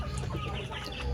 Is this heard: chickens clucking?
yes